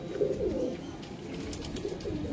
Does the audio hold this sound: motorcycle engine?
no